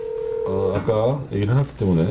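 A steady telephone tone sounds while a call is placed during a studio news broadcast, then gives way to someone talking over it.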